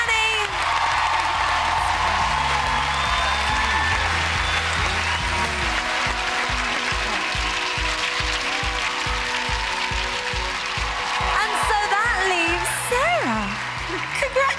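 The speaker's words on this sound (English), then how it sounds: "Huge round of applause for Trevor and Danny." Studio audience applause on a TV singing talent show knockout round, a dense steady wash of clapping and cheering that fills the whole stretch, with a host and voices talking over it and music underneath.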